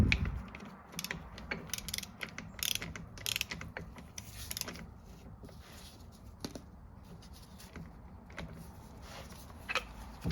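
A bolt is tightened on a Getrag 260 E30 transmission with a ratchet, giving close, quiet clicking bursts and metallic ticks over a low background hum.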